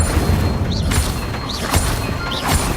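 Repeated Incendio fire spells in Hogwarts Legacy, three quick whooshing fiery bursts under a constant booming game-world rumble, evenly spaced and fairly close.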